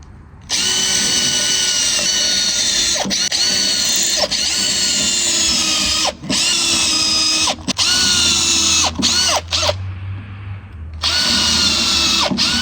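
A power drill whines loudly and steadily, pausing briefly several times and restarting, with its pitch dipping as it bites into hardwood decking timber.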